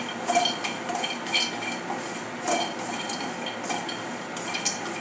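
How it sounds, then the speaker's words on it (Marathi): Cashews and almonds roast in a pan over low flame, with a steady dry rattle and repeated light scrapes and clinks of a stirring spoon, close and moderate in level. "आता काजू बदाम आपण रोस्ट करत आहोत।"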